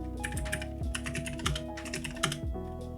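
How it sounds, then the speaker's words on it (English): Quick keystrokes on a computer keyboard, typed into a Linux terminal running on a Windows system, tap out in a fast, uneven rhythm of close, crisp clicks. "I'm gonna type my name."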